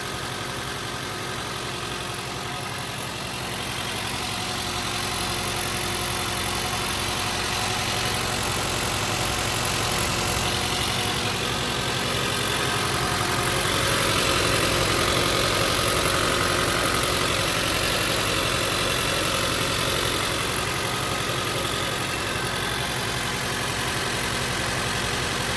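A car engine idling steadily after head gasket sealer was added, a continuous near hum with a faint rattling texture and no voices.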